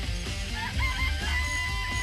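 Chickens cluck and squawk in a coop within the Danganronpa video game, a steady stream of clucking calls over a low background hum, moderately loud throughout.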